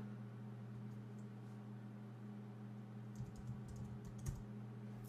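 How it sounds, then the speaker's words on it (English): A short burst of keystrokes on a computer keyboard clicks near the end, faint and close, over a steady low electrical hum. "hit the Windows key, and then just start typing."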